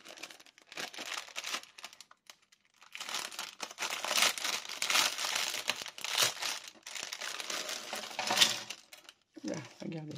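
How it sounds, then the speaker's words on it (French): Crinkling paper packaging rustles in bursts and sustained stretches, fairly close, with brief pauses between handling sounds. "Désolée pour le bruit du papier."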